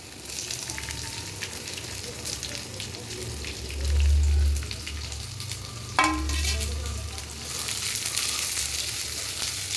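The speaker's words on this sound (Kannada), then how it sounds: "ಕರಿಬೇವು ಸೊಪ್ಪನ್ನು ಹಾಕೋಣ ಈಗ ಒಂದು ಸಾರಿ ಈ ಥರ ಫ್ರೈ ಮಾಡ್ಕೊಳ್ಳಿ" Curry leaves frying in a hot pan for a spicy chicken liver pepper fry, with a steady close sizzle and crackle throughout, a brief louder burst midway and a stir or clatter near the end.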